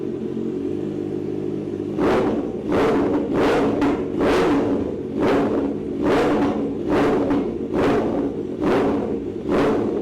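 A Kawasaki ZX-4R motorcycle with a loud aftermarket exhaust idles, then revs in about a dozen sharp, evenly spaced blips, each a loud rising roar over a steady rumbling idle.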